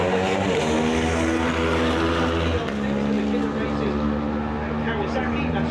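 Racing motorcycle, a Kawasaki among them, roaring along the Manx Grand Prix road course on the Isle of Man, a loud close engine drone with shifting pitch as the bike passes, with public-address commentary over it.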